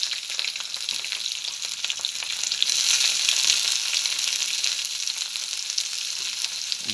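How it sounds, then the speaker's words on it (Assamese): Spice paste sizzles loudly in hot oil with dried chillies, cloves and cinnamon, a continuous bright crackle that swells midway, with faint stirring scrapes and no voices. "তাৰপিছত আমি কাটি থকা পেষ্টখিনি দি দিলোঁ।"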